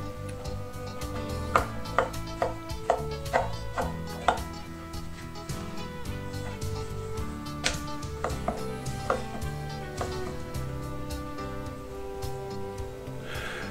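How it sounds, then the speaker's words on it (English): A 10-inch steak knife dices a beef knuckle wedge for casserole on a cutting board, giving a run of sharp, close chopping knocks in an uneven rhythm over steady low background music. "we're going to cut this piece, the wedge, into diced beef for casserole"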